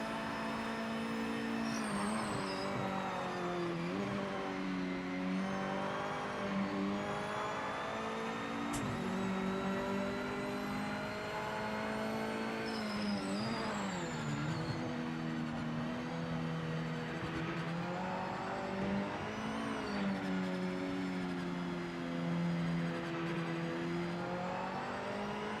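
In the video game Project Motor Racing, a Dodge Hellcat race car engine drones steadily, with repeated rising and falling revs as it shifts gears, fairly faint and with no talk over it.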